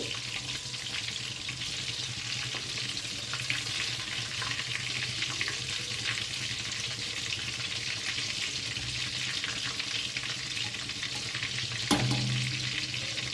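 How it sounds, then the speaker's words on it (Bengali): Chicken fingers frying in hot oil over a low flame, a steady soft sizzle running throughout with one brief sharper clatter near the end. "দুটো সাইড খুব ভালো করে ভেজে নিতে হবে।"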